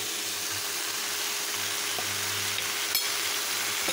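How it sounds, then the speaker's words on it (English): Beef curry with vegetables sizzles steadily in a pan as coconut milk goes in, a constant bubbling hiss with a few faint clinks, no voices. "Then I am going to add this coconut milk"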